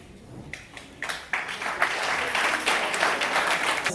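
An audience at a school welcome ceremony breaks into applause that swells quickly and holds as steady, dense clapping filling the room.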